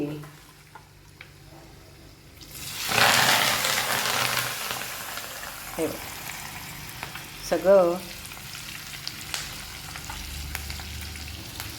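Asafoetida tempering in hot oil for a quick rice dish, bursting into a loud crackling sizzle at about three seconds that then settles into a softer frying hiss with a few stirring clinks.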